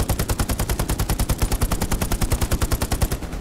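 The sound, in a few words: machine gun fire in video game Hell Let Loose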